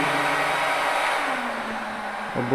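A Wagner Furno 500 heat gun blows steadily with its fan on the second speed setting, a loud, close, continuous airy whoosh with a slight dip in tone near the end.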